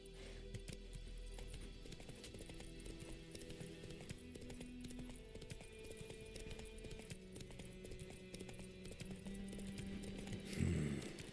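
Roach, the horse in The Witcher 3, gallops with a rapid, continuous patter of hooves under a constant bed of music and ambience, with a brief louder burst near the end.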